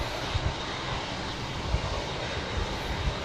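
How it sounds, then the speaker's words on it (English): An Asiana Boeing 777 airliner arriving from Seoul, heard as a steady broad jet roar from a distance, continuous and even with faint low rumbling. "Next arrival will be a Asiana 777 coming in from Seoul."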